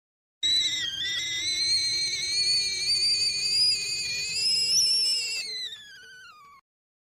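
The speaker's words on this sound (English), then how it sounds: "The kettle." A kettle whistling, a single loud shrill tone that wavers slightly as it holds, then slides downward and fades as the whistle dies away.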